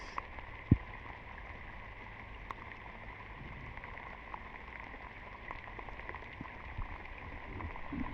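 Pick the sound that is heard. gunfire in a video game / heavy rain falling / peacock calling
heavy rain falling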